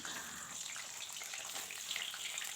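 Potato pieces sizzle and spit as they fry in hot mustard oil for a duck curry, a soft steady crackle heard close up without talk.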